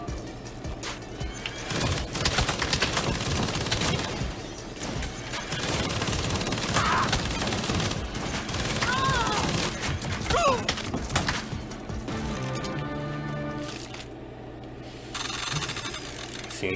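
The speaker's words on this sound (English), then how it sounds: "It's not my first time shooting up a place with a minigun, ma'am." Minigun fire in the video game Saints Row, dense sustained bursts of rapid gunfire mixed with clanks, shattering debris and game effects, loud and continuous throughout.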